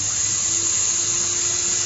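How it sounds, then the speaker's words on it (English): A CNC machine drilling a hole into a PCB gives a steady, high-pitched spindle whine with a faint hum underneath. The tone stays constant throughout, with no talking. "it's going to start drilling down into the material"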